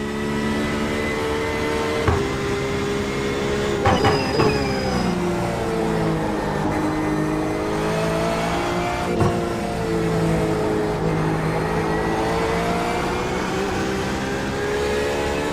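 Corvette race car engine in the iRacing sim on a GT4 and prototype circuit, droning steadily loud with pitch sweeping up and down through gear changes and corners, one brief upshift blip, no talk.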